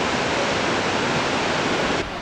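Water pours steadily down a waterfall at El Questro Station, a loud, dense, unbroken rush heard close up with no voices, easing slightly in level toward the end.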